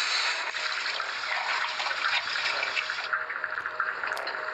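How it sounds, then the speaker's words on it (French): Toilet flush from a Skibidi Toilet animation episode: a continuous rushing, gurgling water swirl that holds steady and loud throughout, thinning slightly toward the end, with no voices. "Hop là, dans la chasse d'eau."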